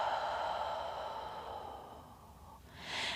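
A long, steady breath is exhaled during a beginner mat Pilates workout, a close, soft airy sigh lasting a few seconds and fading before a fresh rush of breath at the end.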